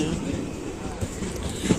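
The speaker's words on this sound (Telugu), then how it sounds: "మార్నింగ్ హనుమాన్ జంక్షన్లో వెయిట్ చేస్తున్నాము ట్రైన్ కోసం ట్రైన్ వచ్చేసింది" A train pulls into Hanuman Junction railway station with a steady low rumble of rolling stock and a few soft clanks near the end, heard from the platform close by.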